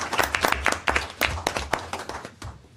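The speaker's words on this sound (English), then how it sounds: "Let's give them a round of applause for their presentation." Sparse applause from a small audience at a city council meeting, individual claps clearly distinct in an uneven rhythm that thins out toward the end.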